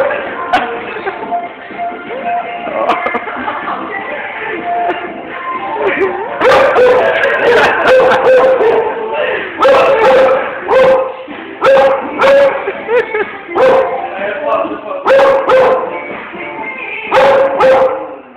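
A dog barks repeatedly in short bursts, close and loud, with whimpering tones between barks and people laughing and talking nearby.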